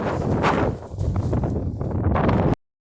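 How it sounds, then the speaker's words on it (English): Strong wind buffets the microphone in heavy, rumbling gusts, loud and close, at an airport before cutting off abruptly. "It's absolutely windy as hell."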